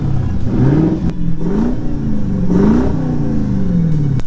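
A Subaru engine burning Seafoam cleaner revs hard in repeated rising and falling sweeps, loud and close with a steady rumbling idle between pulls and no talking.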